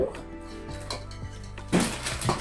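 Dishes clatter in a dish-drying rack in a home kitchen, with close, irregular clinks and knocks of plates and cutlery being moved, heard alone.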